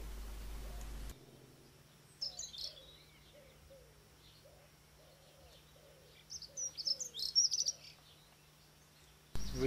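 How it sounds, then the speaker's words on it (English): A recently fledged blue tit gives short, high chirping calls in a quiet Dorset woodland setting, in two bursts with a low steady hum and soft lower coos underneath. "Recently fledged blue tit passing through."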